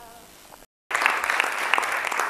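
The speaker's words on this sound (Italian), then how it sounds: "Grande applauso del nostro eh, studio" A brief tonal musical sting cuts to a short silence, then a live studio audience at La Domenica Sportiva's Christmas Day broadcast bursts into loud, sustained applause that carries steadily to the end.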